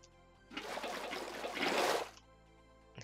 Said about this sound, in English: We're gonna fill it with water.